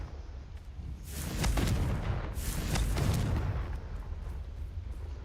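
Confringo explosion spell cast in the Hogwarts Legacy video game: two loud, rumbling blasts with crackling bursts roughly a second apart, heavy low boom fading into ambient background.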